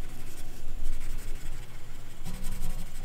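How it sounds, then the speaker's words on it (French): Crayola colored pencils scratch steadily across paper while a zone is colored in, a close, continuous rubbing texture with short strokes and no talking. "je vais colorier toute la zone que je viens de détourer"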